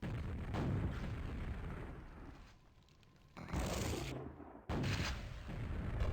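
Rocket fire and blasts during a QuakeWorld duel video game match, loud broadband bursts filling most of the moment with a brief quieter gap in the middle, no voices.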